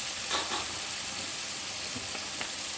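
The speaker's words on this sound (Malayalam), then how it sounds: "അപ്പോൾ നമ്മുടെ ഇരുമ്പമ്പുളി എണ്ണയിൽ കിടുന്നതാണ്." Bilimbi frying in hot oil for pickle, its moisture cooked off, giving an even close sizzle with a few soft stirring scrapes, no one talking.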